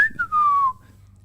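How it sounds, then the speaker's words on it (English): A single whistled phrase from a person in a cold mountain setting, one bright sliding note falling in pitch over about half a second, then trailing off into near silence. "I heard the sound of someone whimsically whistling in the distance above me."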